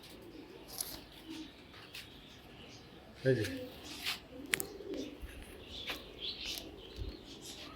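Racing pigeon squabs in a loft give soft coos and chirps, with someone talking nearby over them.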